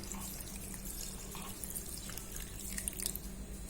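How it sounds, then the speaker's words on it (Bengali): Water trickles and splashes steadily into soaked rice in a container, ready to be ground for appam batter. The sound is faint and continuous with no talking. "এর মধ্যে জল অ্যাড করব।"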